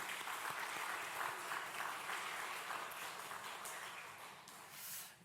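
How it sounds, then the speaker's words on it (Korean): A church congregation at a Sunday worship service in Bucheon applauds the choir, a steady wash of clapping held at an even level that swells slightly near the end. "우리 할렐루야 찬양대 또 주일 경배 찬양팀 축복하는 박수 하도록 하겠습니다."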